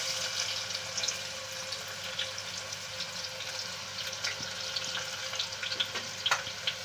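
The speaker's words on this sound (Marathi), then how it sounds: "मग कांदा टाकून घ्यायचा।" Chopped onion fries in hot oil with cumin, giving a steady, fine sizzle with small crackles and pops. The sound is close but fairly quiet, and no one speaks.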